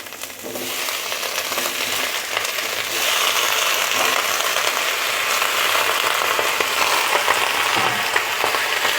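Vegetables go into a pan of frying garlic, giving a loud, dense, continuous sizzle and crackle with a few sharp clinks of stirring. It holds steady throughout with no talk over it.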